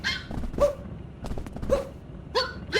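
A dog in Super Mario Odyssey's Wooded Kingdom lets out several short, bright barks and yips in quick succession, close and clear.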